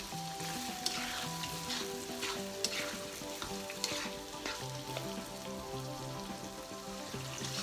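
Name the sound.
stirring curried beef cooking in a pot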